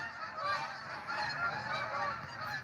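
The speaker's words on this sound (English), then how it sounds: "Got geese." A flock of geese honks continuously, many overlapping calls, fairly close and loud with no talking.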